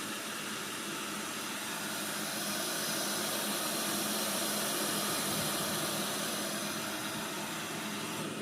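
Water roils steadily in an electric kettle, a dense, even hiss and bubbling rush that holds constant throughout.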